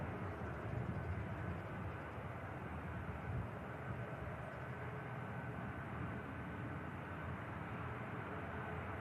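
A Ryanair airliner touches down at Manchester Airport, heard as a faint, distant broadband roar of jet engines that stays steady and continuous across the whole stretch, with no talk.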